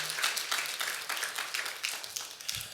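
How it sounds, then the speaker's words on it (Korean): A church congregation clapping for its worship team, a short burst of fairly soft, even applause from the room lasting under three seconds. "박수로 한번 격려해 주십시오."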